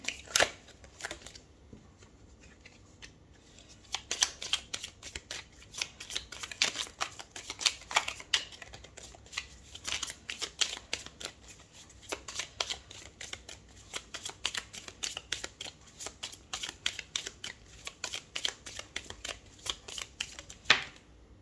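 Tarot cards being shuffled by hand make quick, papery riffling bursts and flicks that repeat in an uneven rhythm throughout, close and fairly quiet.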